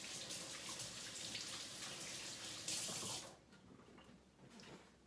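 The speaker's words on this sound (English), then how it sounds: "I'm just going to get my wet cloth, wash my fingers." Tap water runs steadily into a sink as fingers are rinsed during sourdough making, a dense continuous splash that cuts off abruptly about two-thirds through, leaving a faint quieter trickle.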